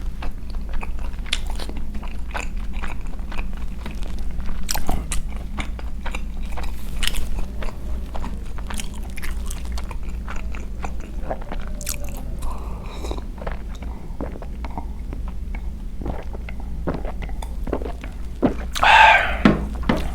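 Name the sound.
biting and chewing pizza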